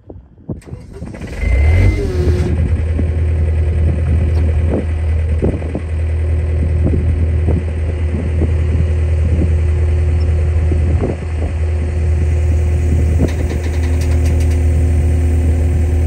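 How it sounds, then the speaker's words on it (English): A skid steer's engine cranks and catches, then settles into a loud, steady close-up idle with a constant low throb for the rest of the stretch. "use this skid steer to pick it up."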